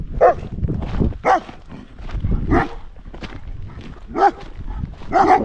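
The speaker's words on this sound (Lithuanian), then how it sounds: "Oi, kokie gražūs šuniukai, bet labai pikti." Angry dogs behind a fence barking repeatedly nearby, irregular bursts of loud barks over crunching footsteps on a forest path.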